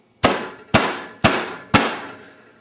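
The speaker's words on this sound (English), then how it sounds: "Now I'm going to pound my hand with this hammer and see what happens." A hammer strikes a hand covered in impact gel four times at an even pace, each blow a loud, close, ringing clank that dies away quickly, with no talking.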